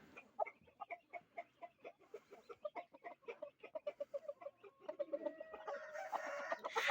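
Chickens cluck in a steady series of short, close calls, a flock chattering together, with a rising squawk near the end.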